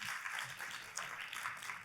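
A church congregation applauds together, a broad steady wash of clapping held at a moderate distance and fairly quiet, with no talk over it.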